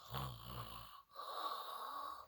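A voice imitates a dog snoring, two drawn-out nasal snores, the first rough and low, the second higher and wheezy, after a short gap, close and fairly quiet.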